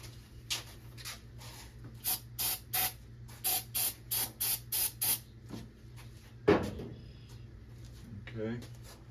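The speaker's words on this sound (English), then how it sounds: "I'm going to get some carb cleaner and spray on it first." Carburetor cleaner is sprayed onto the engine of a 1966 car in a run of about eight short, sharp aerosol bursts at close range, followed by a clatter and a voice.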